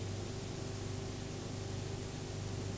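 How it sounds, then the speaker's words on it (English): Steel in a blast cleaning plant is bombarded with high-speed shot or grit, producing a steady, dense hiss with a low mechanical hum underneath, constant and unbroken throughout. "In a blast cleaning plant, the steel is bombarded by high-speed particles of shot or grit"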